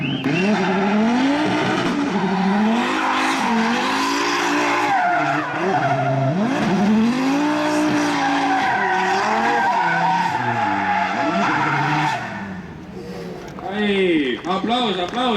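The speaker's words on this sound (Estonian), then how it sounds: "Aga rida 5 turbokas, kuulame seda, vaatame värvilist rehvisuitsu" An inline-six turbo drift car at a drift event screams through sweeping revs while its tires squeal and skid in long, loud slides, then the engine drops away near the end; an announcer talks over much of it.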